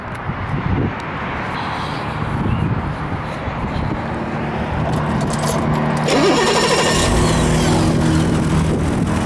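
A 1984 BMW 635CSi's M30 inline-six engine cranks and catches, then settles into a steady running idle with a brief rev, close and loud.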